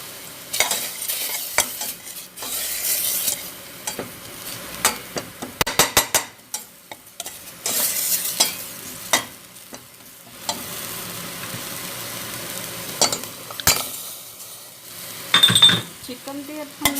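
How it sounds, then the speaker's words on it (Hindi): Chicken browning in a pan with masala, salt and green chilies while being stirred: close, irregular bursts of scraping and sizzling with short pauses, no speech. "थोड़ा सा चिकन को हम भून लेंगे"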